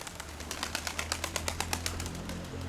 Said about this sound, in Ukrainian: Сідає голуб з цієї пари, що залишалося.